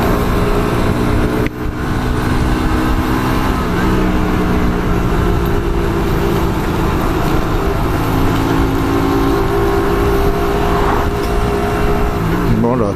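A Hyosung Aquila 125 motorcycle rolls downhill with a steady, loud engine hum and wind rush, sustained and close throughout with little change in pitch.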